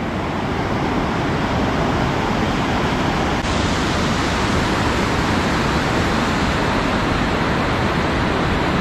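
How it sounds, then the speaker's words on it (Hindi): The Suru river near Kargil in Ladakh rushes past in a steady, loud, broadband roar of flowing water that continues unbroken throughout. "सुरू नदी, ये देख लो आप।"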